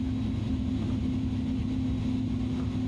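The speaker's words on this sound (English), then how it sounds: "Plane's powering up nicely." Airbus A310-300 jet engines running up in a flight simulator game, a steady, loud low-pitched engine drone and hum that holds without a break throughout.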